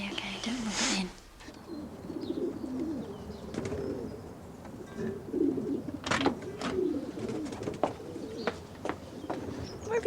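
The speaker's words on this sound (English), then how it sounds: "Just feeding the birds." Pigeons coo in soft, low murmurs as they are fed outdoors, with brief wing flutters and scattered clicks rising and falling over a steady background hum.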